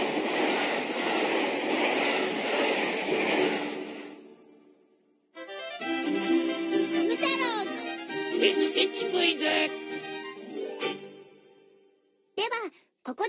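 A White Arrow express train rumbles past with a steady, roaring wash of noise for about four seconds, then falls silent before animated voices take over.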